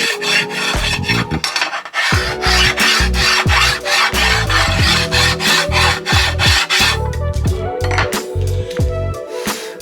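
A chisel blade scrapes paint and grime off a metal valve cover in quick repeated strokes, a loud raspy rhythmic scraping with scattered light clinks.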